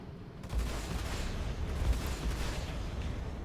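Spaceship guns firing in the space-combat game Star Citizen's Arena Commander, a dense rumbling run of rapid low booms and bursts that stays loud throughout.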